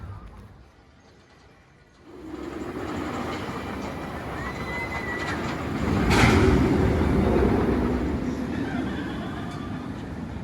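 Smiler roller coaster trains at Alton Towers rumble past, a low, quiet start that swells suddenly into a loud rolling roar with track clatter, peaking midway before easing slightly, heard from nearby.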